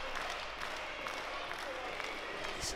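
Wrestling crowd cheering for Zizi in an echoing venue, a continuous roar of voices and clapping filling the room, with a commentator talking over it.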